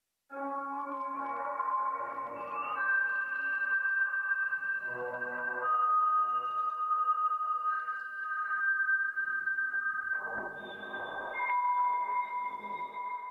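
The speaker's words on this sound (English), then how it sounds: "we now hear a random note on every quarter beat instead of just a series of Cs" In Logic, an arpeggiator plays random MIDI notes on every quarter beat. Clean synth tones step between pitches in an even, steady rhythm, sustained and overlapping, with no voices present.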